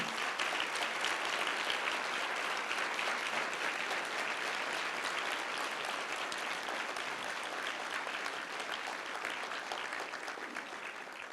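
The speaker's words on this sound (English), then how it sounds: "Let's give them a big round of applause." Sustained applause fills a hall at a sit-in anniversary breakfast celebration as the audience honors the surviving sit-in participants and their families; steady dense clapping continues throughout at moderate distance, tapering slightly toward the end.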